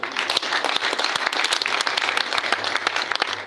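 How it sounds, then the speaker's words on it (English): A seated audience at a live-streamed meeting gives a big round of hand clapping for a finance director, with individual claps clearly separated in a brisk, steady patter at moderate distance. "they give her a very big hand clap"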